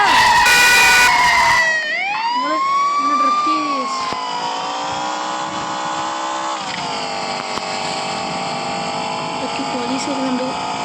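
A wailing police siren in a Grand Theft Auto video game sweeps up and down, loud and continuous, over a droning engine, with a synthetic, game-like quality.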